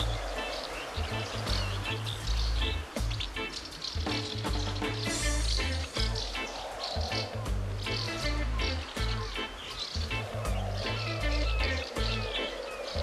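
Fish frying in the video game Captain Morgane and the Golden Turtle, a steady loud sizzle running throughout alongside game music and a repeating low rhythmic pulse.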